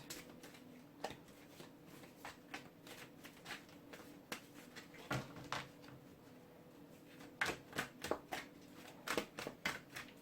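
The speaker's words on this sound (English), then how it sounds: "I'm not shuffling these cards too well tonight." Tarot cards being shuffled close by in quick papery riffles and flicks, coming in irregular bursts with brief pauses, with no voices present.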